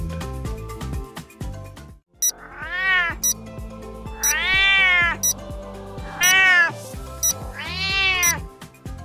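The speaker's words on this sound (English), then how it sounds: "It's a cat!" A cat meows several times, long rising-and-falling cries spaced a second or two apart, loud and close over a backdrop of music.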